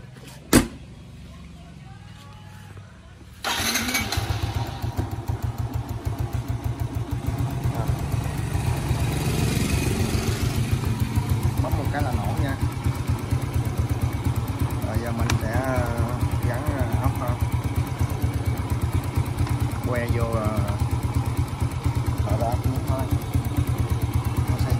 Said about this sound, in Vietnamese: Đây, toàn thể xe đây rồi, cho mình sẵn nổ máy nha.